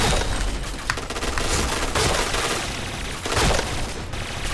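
A Kriss submachine gun fires in a video game with a continuous loud rapid stream of shots, full-auto bursts packed tightly together for several seconds.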